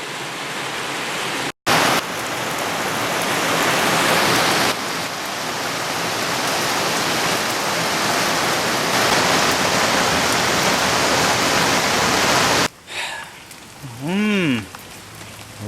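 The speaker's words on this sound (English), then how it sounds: "Yeah, it's raining." Steady, heavy rain pours down on a surface for most of the stretch, a dense constant hiss broken by a brief gap, before fading near the end where a faint rising-and-falling tonal sound briefly appears.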